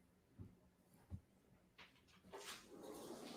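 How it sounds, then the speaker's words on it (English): Dogs whimper and yip to be let back inside, with soft brief whines early on and then louder, breathy high whimpering that carries on at close range. "Now the dogs want back in."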